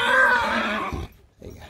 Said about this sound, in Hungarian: Igen, ugye lovak vannak.